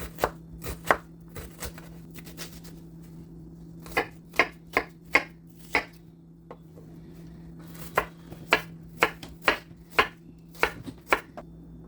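Onions being diced with a knife on a cutting board, a series of crisp, separate chopping knocks in uneven bursts with short pauses, close and clear over a faint steady hum.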